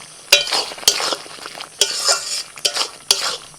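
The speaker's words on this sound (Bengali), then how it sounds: "এইভাবে শুধু অনবরত নাড়াচাড়া করতে হবে।" Ridge gourd curry being stirred in a pan with turmeric and salt: a spoon scrapes and knocks against the pan in sharp, irregular strokes over a low background, with no talk.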